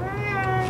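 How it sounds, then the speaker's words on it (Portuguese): A house cat gives a brief, close meow, a sustained tonal cry heard alone. "Ele tá ronronando."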